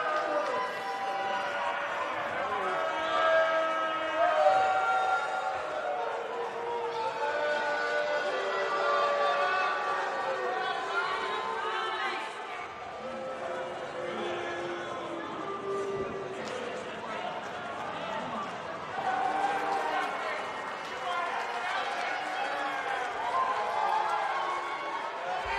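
A steady arena crowd roars and murmurs through a wrestling match in WWE 2K19, holding loud and continuous with swells, with commentary voices talking over it.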